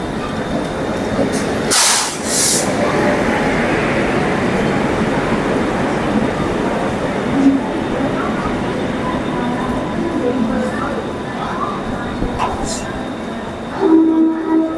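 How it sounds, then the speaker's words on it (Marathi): Mandovi Express train 10103 pulls in at a railway platform with a steady broad rumble and rolling wheel noise, a loud hiss burst near the start and a brief tone near the end. "आपली train 10103 Mandvi express finally platform number 10 वर आली आहे"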